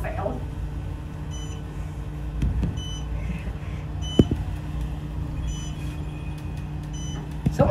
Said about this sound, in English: Someone's phone's going off.